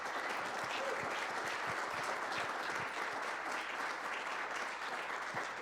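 Sustained, dense applause from a conference audience at BTCPay Day 2025 in Prague welcomes a speaker onto the stage, steady and loud throughout with no voices standing out.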